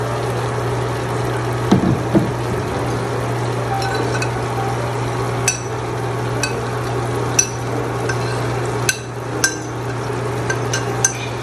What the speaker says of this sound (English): I'll just add a bit of water here.